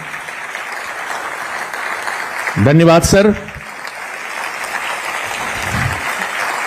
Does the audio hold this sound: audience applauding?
yes